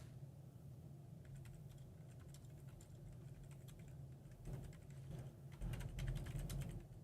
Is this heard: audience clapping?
no